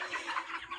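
Broiler chickens in a farm shed cluck in a dense, soft, overlapping chorus, a steady murmur of many birds nearby.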